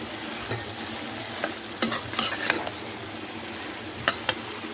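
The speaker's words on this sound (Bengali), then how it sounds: "এবার এতে আমাদের মাছগুলো দিয়ে দিই, দিয়ে ভালো করে নাড়িয়ে নিই।" Pieces of fish being stirred into a bubbling, spicy fish curry in a pan: soft steady sizzle with scattered scraping clicks and a few sharper knocks of the spoon, close and moderately quiet, no voices.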